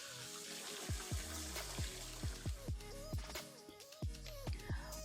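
Tap water runs into a bowl of washed glutinous rice for soaking, a steady close splashing stream with bubbly gurgles and sloshing as the bowl fills, no talking.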